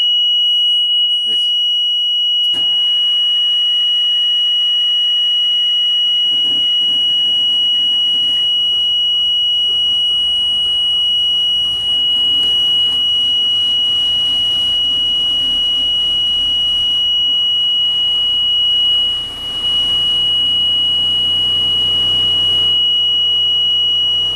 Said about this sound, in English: That is the loudest squeal I've ever heard.